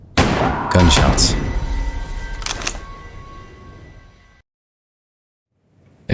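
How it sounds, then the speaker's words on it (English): Gunshots in the Adam Wolfe video game: a few sharp, loud bangs in quick succession near the start, a second burst shortly after, then a fading ring and near silence. "Gunshots."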